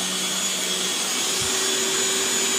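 A 220-volt mixer grinder powered by a homemade power inverter, its motor giving a steady, continuous whine and hum close by throughout, with no talk.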